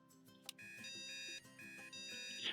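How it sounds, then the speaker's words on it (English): A phone alarm rings in the video game Hush Hush, a bright, steady electronic tone pattern that repeats with short breaks, clear and alone. "You hear a phone alarm"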